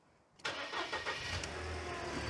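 An LC Torana car engine cranks and catches suddenly, then runs with a steady mid-pitched hum close by.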